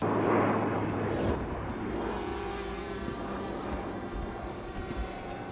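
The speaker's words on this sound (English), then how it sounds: "This is our first time of handling a drone, so let's see how it goes." A DJI Mavic Air drone flies nearby with a steady high-pitched propeller whine and buzz that holds throughout and fades slightly, no voices over it.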